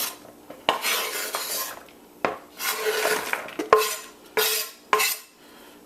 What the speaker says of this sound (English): I do apologize for that scraping noise, but it's the only way I can get everything in there.